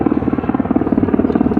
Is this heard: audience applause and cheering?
no